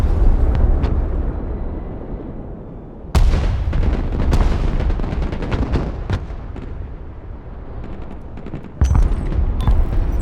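In the video game Broken Arrow, artillery fire and explosions roll on as dense, booming blasts with sharp bursts, loud and continuous, with a few heavier strikes standing out.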